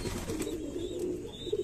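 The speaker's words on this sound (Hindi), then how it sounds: "आज हम लेके आए हैं रामपुरी कबूतर" Rampuri highflyer pigeons coo in a low, soft, continuous warble, close by and alone, with a faint higher chirp near the end.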